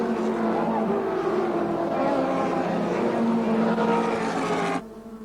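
Touring cars in a 1987 AMSCAR race at Amaroo, among them the CIG Gases Commodore, roar past with engines droning loudly under commentary before the sound drops away abruptly.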